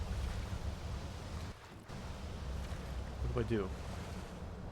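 Rising flood water in the fantasy game Enderal surges as a steady, loud wash of rushing and sloshing water with a windy roar, briefly dipping before swelling again, while a voice speaks over it.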